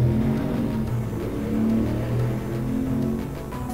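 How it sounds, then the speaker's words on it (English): In the Pokémon Platinum video game, a loud motorcycle engine drones and revs steadily in a continuous low growl, close and sustained without speech. "Does your motorcycle need to be so loud?"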